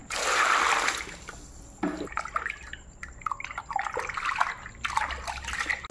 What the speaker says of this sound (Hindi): अब आइए मछली को धो लेते हैं।